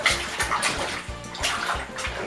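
Water sloshing and splashing as fursuit paws are washed and rinsed in a tub, with rhythmic repeated dunks and swishes close to the mic, no talking.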